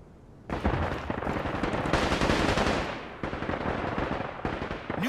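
Rapid bursts of gunfire in the online shooter game Caliber, loud and sustained with a few brief pauses, dense crackling shots filling the whole stretch.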